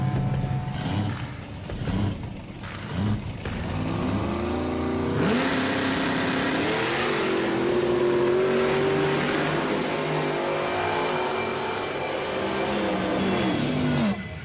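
A Pontiac Firebird drag race car launches hard down a drag strip after a lowered launch RPM and tire pressure, its engine roaring loud and sustained as it revs and pulls away, with no talk.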